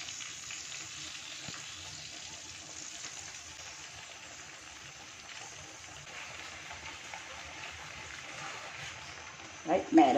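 Fish cakes wrapped in betel leaves frying in a pan, a steady soft sizzle throughout at low level, ending with a brief louder clatter.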